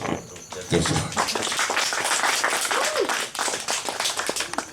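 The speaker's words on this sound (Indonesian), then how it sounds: "Kita beri aplaus." Audience applause at a community theatre group's gathering, a dense steady clapping that swells after a brief quiet start and carries on for several seconds, with voices talking and calling out over it.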